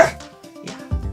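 A dog gives a few short, close barks and yips with brief gaps between them, heard on its own without talk.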